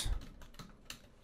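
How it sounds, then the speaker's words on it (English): Quick burst of typing on a computer keyboard, a few light key clicks close by, no talk. "If you type in Megascans"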